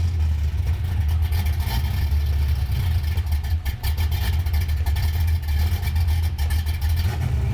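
A loud Dodge car engine idles with a deep, steady rumble and revs repeatedly throughout, strong low-end drone filling the whole stretch with no talk.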